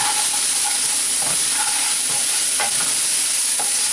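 Onions frying in a hot pan for dry chili mushroom, a dense constant sizzle and hiss broken by several scraping stirs of a spoon, close and fairly loud with no voices.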